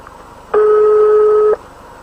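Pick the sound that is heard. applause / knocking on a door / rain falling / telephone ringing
telephone ringing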